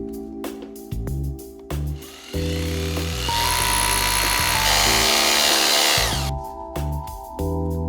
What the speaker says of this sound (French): Les trous pour les écarteurs peuvent être percés.